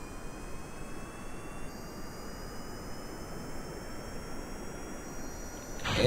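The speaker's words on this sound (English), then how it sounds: "And throttle to full, brakes still on. Those engines going." Jet engines on a spaceplane in Kerbal Space Program roar at full throttle with the brakes still on, a steady, loud, dense rumble that swells slightly at the very end.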